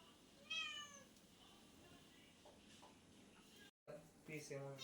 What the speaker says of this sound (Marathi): आमची म्याऊ बघा कसं मटण आणते